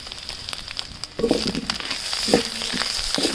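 Onions frying in a pan with ground fish paste, turmeric, chili powder and salt, giving faint background sizzle with two louder bursts of stirring and scraping partway through.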